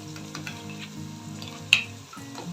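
Mutton biryani masala sautéing in a pan with green chilies and ginger-garlic paste, giving a steady close sizzle over low humming tones, with one sharp scrape or clink near the end.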